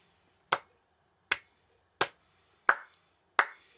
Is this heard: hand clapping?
yes